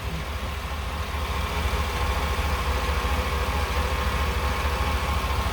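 A GM 6.2L V8 engine with lifter failure idles steadily nearby, a low, even rumble with a faint mechanical hum and no other sounds.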